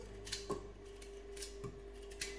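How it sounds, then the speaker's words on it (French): Small carrots are chopped with a knife on a board, several faint, sharp taps spaced irregularly against a quiet room hum. "Ensuite, on va couper nos petites carottes."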